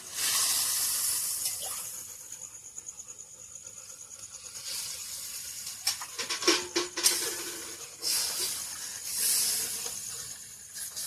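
Water pours into a hot pan of fried spices for a fish curry, setting off a hissing sizzle that swells and spatters in bursts.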